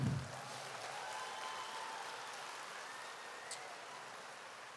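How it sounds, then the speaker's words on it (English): Faint, steady applause from a crowd at the Kentucky State Fair livestock championship drive, sounding distant and continuous like a light patter throughout. "Let's give them one gigantic round of applause."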